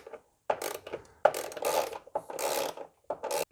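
A ratchet with an E10 socket on a short extension clicks in several quick bursts, loosening the fuel rail bolts on an Opel Corsa C intake manifold, close and loud with short pauses.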